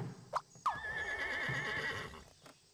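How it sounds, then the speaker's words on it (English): A horse whinnies in the video game Scribblenauts Unlimited, one long wavering neigh rising out of a couple of quick sharp clicks, loud and alone with no talk. "What if we gave you a horse?"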